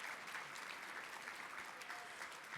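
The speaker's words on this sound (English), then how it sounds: "A round of applause for the wait staff, please." An audience at a formal dinner applauds the wait staff, a steady, even wash of many hands clapping at a distance, heard alone for the full stretch without a break.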